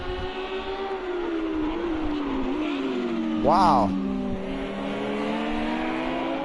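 Lamborghini Super Trofeo race cars run on the Long Beach street circuit, a steady engine whine shifting pitch as one car passes close with a swelling roar midway, under excited commentary.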